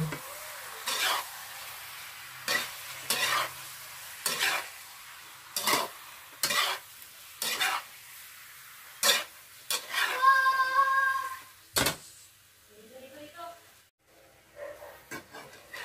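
A spoon scrapes and stirs squid simmering in coconut milk in a pan for a spicy dish, in repeated bursts with short pauses and a faint sizzle between strokes.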